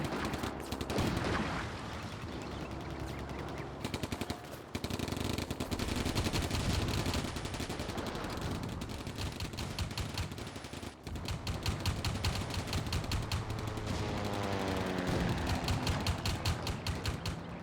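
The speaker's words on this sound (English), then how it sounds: "A bit of a long distance firing a machine gun over." Combat Mission video game battle with a machine gun firing at long distance: dense, rapid bursts and overlapping volleys of gunfire rattle almost continuously, moderately loud with no talking.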